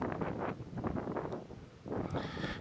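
Gusty wind buffets the open cliff edge at Rowena Crest, Oregon, rising and falling in rough, breathy surges close to the microphone, with no talk.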